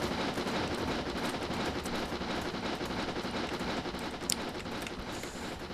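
The Talyllyn Railway steam locomotive Dolgoch, well over 100 years old, running in Train Simulator 2020: a steady, fairly faint rumble and rattle of the moving train with a soft, continuous chuffing texture and one brief sharp click.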